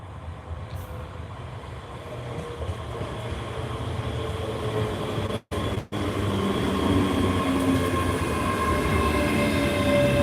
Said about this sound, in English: train arriving at platform 2 is the 12:36 service to Edinburgh. This train is formed of 3 carriages.